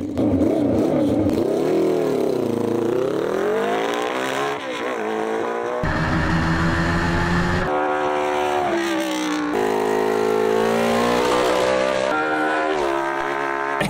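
A 1960s Dodgem fitted with a 600cc sports bike engine revs hard, its high-pitched engine note climbing and falling through repeated throttle sweeps and gear changes, loud and close throughout.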